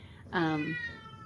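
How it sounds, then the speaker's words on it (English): A single cat lets out one clear, fairly close meow in a pottery studio, a short rising-and-falling cry over a quiet room hum. "If you hear another cat in the background"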